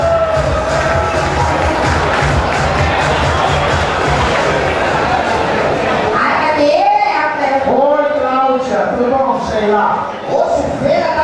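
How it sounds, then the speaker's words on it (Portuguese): An audience at a drag show matinee cheers and claps loudly for several seconds, then the noise fades and a voice talks over lighter crowd murmur. "Vamos aplaudir a Sheila?"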